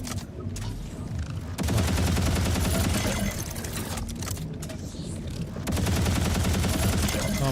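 Sustained rapid gunfire in Borderlands 4, dense continuous bursts of shots with brief pauses, loud and close, with an occasional voice underneath.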